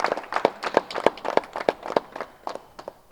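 An audience claps for Brahmarshi Patriji at a pyramid meditation hall opening in Siddipet, a brisk run of distinct hand claps that thins out toward the end, with no speech over it.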